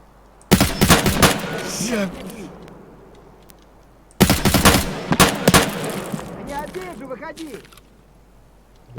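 Gunfire from the video game Escape From Tarkov: two loud bursts of rapid automatic shots, roughly four seconds apart, each trailing off into echoing reports.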